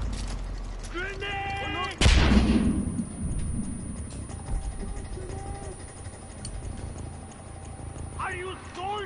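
Gunfire in a PS4 war video game, with a loud burst striking about two seconds in and shots continuing through a noisy battle bed, along with hoofbeats and a horse whinny, while voices talk over it.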